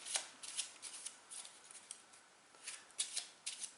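Playing cards for the Legendary Encounters: Alien board game are shuffled close up, giving repeated soft riffling bursts with brief pauses, quiet and without talk.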